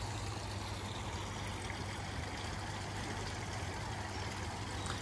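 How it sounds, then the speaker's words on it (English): A small garden water feature with a little waterfall trickles steadily and continuously, a soft, even wash of falling water with a faint low hum underneath, nearby and alone with no talking. "It's just got a little bit of a water feature there as well."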